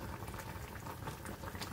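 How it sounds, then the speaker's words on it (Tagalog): A pot of water with bananas boiling steadily, a dense continuous bubbling and gurgling heard close up with no talk over it. "kumukulo na siya."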